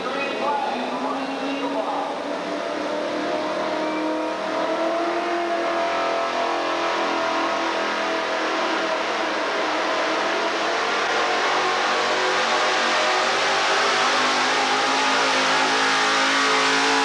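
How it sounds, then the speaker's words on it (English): A pulling truck's engine revs hard at a 1987 outlaws modified truck pull in Murray, Kentucky, a loud sustained roar that climbs steadily in pitch, with a crowd and announcer underneath. "The old man truck pulling, Ray Engelbach."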